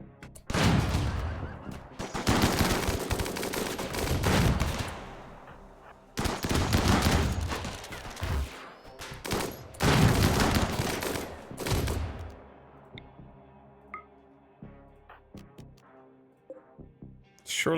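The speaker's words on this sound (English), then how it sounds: "Please, not the autocannon." Autocannon fire in the video game RimWorld comes in long, loud, dense bursts of rapid shots, broken by short pauses and then trailing off into scattered single reports near the end.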